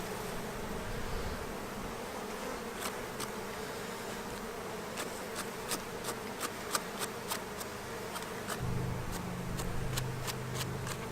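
Honey bees swarm over a hive frame heavy with nectar, giving a soft, steady buzzing drone. Faint clicks and small handling noises come and go through it.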